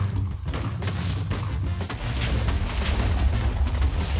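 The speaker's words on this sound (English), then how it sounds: "but we're going to need to explode the rest" TNT explosions in a Minecraft hardcore world, a dense run of booming blasts that rumble on continuously, loud and close, with no voices over them.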